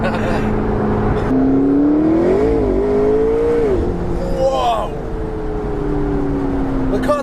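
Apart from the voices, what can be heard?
blue McLaren 650S Spider accelerating hard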